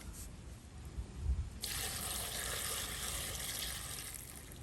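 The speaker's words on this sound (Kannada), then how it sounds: "ಸ್ವಲ್ಪ ನೀರು ಹಾಕಬೇಕು ಇದಕ್ಕೆ. ಇದು ಮುಳುಗುವಷ್ಟು ನೀರು ಹಾಕಿದರೆ ಆಯಿತು." Water is poured over cut raw jackfruit pieces in a pot. After a short quiet start comes a steady, close rushing splash that continues to the end, with no talk.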